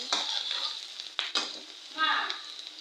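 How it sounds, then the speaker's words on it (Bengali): Onions and green chilies sizzle in hot oil while being stirred, a steady close frying hiss broken by several sharp scraping strokes of the spoon against the pan. "দিয়ে দিয়ে ভালো করে লাড়াচাড়া দিয়ে বাজে নিব"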